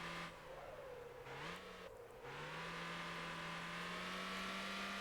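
Sports Retro I4 car engine in the racing game Motor Town, a steady close-up drone that revs up, dips twice as it shifts or lifts through turns, then holds a high, sustained pitch.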